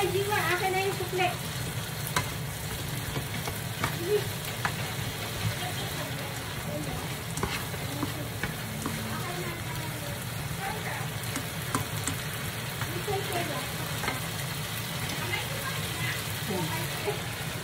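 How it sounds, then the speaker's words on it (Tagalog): Bitter gourd (ampalaya) sautés in a pan with a steady, close sizzle and crackle, scraped and stirred now and then, while people talk over the cooking throughout. "Magigisa tayo ng ampalaya."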